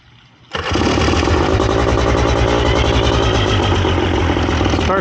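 A Vittorazi Cosmo 300 paramotor engine on a FlyProduct Xenit trike catches after a brief quiet moment and settles into a loud, steady, buzzing run close by, holding constant for several seconds.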